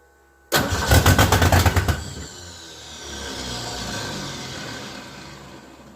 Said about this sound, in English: go ahead and crank her